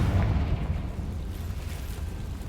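A Confringo blasting spell from a Harry Potter video game bursts with a loud, booming low rumble that rolls on and slowly fades across the whole stretch, with no talk over it.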